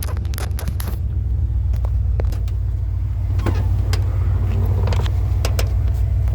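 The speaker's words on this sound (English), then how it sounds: "Now y'all get to see me turn my truck off." A pickup truck's engine idling with a loud, constant low rumble, close by, with a few scattered clicks and knocks from inside the cab.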